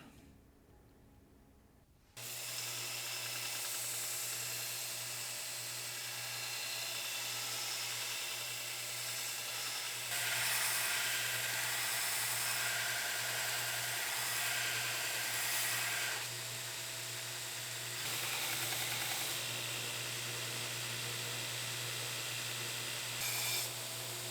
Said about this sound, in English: Then we're gonna grind the bevels as such.